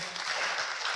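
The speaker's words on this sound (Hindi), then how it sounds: "इनके लिए ताली बजा दे जोर से।" A church congregation applauds during a Sunday service, a dense steady clatter of many hands clapping together, moderately near and filling the whole moment.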